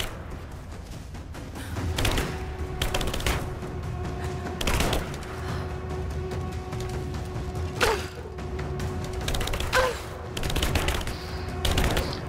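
Gunfire in Rise of the Tomb Raider crackles in bursts, with a few sharper shots standing out over a steady mechanical background hum.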